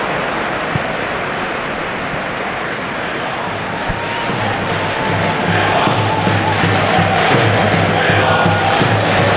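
A football stadium crowd in a PES video game, a dense, steady roar of many voices that swells slightly toward the end, with no clear single voice on top.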